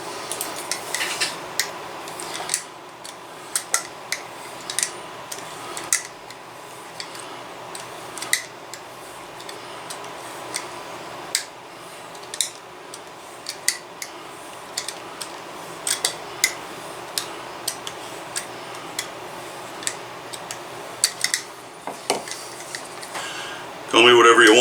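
Holster leather being cut out with a razor blade, heard as a long series of sharp, close ticks and short scraping strokes at an irregular pace, with a brief burst of handling noise at the end.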